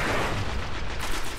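Gunfire in the video game Destiny, heard as dense, booming shots that blend into a continuous rumbling barrage, loud and close with no talking over it.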